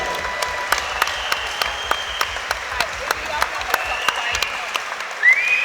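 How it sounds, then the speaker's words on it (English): Crowd applause fills an MMA cage venue after a title fight, a steady wash of clapping with scattered sharp claps, with voices mixed in and a brief whistle near the end. "can I have a huge round of applause for both warriors in the cage?"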